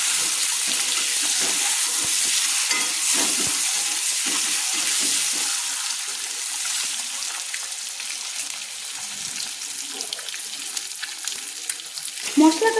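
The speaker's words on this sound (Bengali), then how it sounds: "একটা কড়াইতে আমি ভেজে নিচ্ছি।" Marinated eggs, coated with salt and turmeric, fry in hot oil in a wok, giving a steady loud sizzle with scraping stirs, then a brief clatter near the end.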